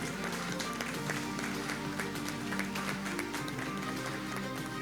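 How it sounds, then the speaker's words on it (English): An audience at an IT association tech day in a Mumbai banquet hall gives the members a round of applause, a faint, steady patter of clapping beneath a low musical hum. "So can we have a big round of applause to all of you?"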